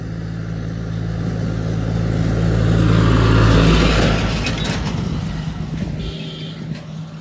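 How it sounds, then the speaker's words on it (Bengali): A tractor comes speeding along a road, its engine roar swelling as it approaches, peaking close by in the middle, then fading away as it passes, with no one talking. "দেখো এখানে একটা ট্রাক্টর কি স্পিডে আসছে।"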